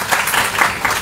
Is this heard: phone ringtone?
no